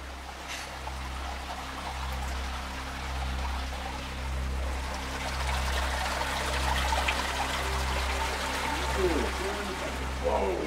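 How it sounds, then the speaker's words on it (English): Water trickles into the hollow floor of Arch Cave, a steady wet flow under a low droning hum. A voice speaks over it at points. "the water trickling behind us here just goes down into the floor, and it's all hollow down through here"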